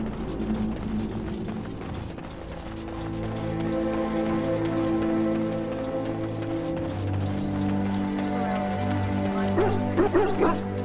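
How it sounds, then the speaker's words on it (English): Hounds in the Dragon Age Origins video game kennel bark and whimper over a low, droning music bed, with a few yips and whines rising near the end. "Half the dogs are sick from darkspawn blood."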